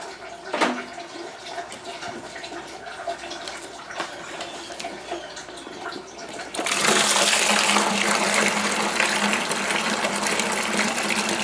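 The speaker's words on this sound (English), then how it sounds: "then we're going to add our must to it." Grape must for a Winexpert Eclipse Shiraz wine kit pours into a fermenting bucket, a steady loud gushing rush that starts abruptly partway through and continues, after quieter handling and clunks.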